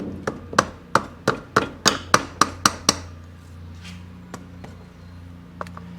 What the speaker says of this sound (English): Where's my sledgehammer?